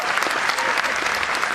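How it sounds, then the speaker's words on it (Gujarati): An audience at a Gujarati literary gathering applauds to honour a guest, a short burst of dense, even clapping that holds steady for its whole length. "તાળીઓથી એનું સન્માન આપો"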